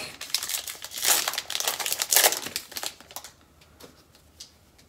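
Crinkly plastic foil of a Topps Heritage baseball card pack crackles and tears as it is opened up close, busy rustling bursts that fade to softer scattered crinkles.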